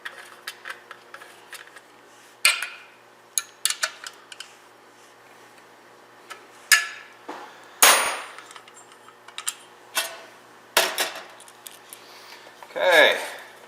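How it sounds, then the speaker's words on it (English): Small side bolts fitted back onto a ROKON engine during a restoration: scattered sharp metallic clinks and taps, some ringing briefly, spread irregularly across a quiet workshop background. "Now it's time to put these little side bolts back in."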